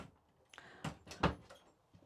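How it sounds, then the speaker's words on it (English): A toilet compartment door on a Buccaneer Bermuda 2022 boat swings shut, giving a few soft knocks and a latch click nearby, faint and without talk. "So let's close that door."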